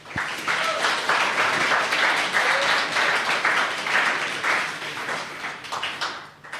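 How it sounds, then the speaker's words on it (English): An audience gathered for a talk on Twelve Angry Men gives a welcoming speaker a round of applause: close, dense clapping that stays steady and then tapers. "can you give him a grand applause?"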